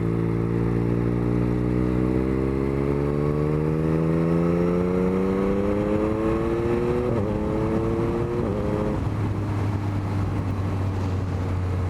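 A 2021 Yamaha MT-09 motorcycle on the road, its engine droning loud and close while the pitch climbs steadily through a long pull, shifts with a brief break, then settles into a lower steady hum with wind rush underneath.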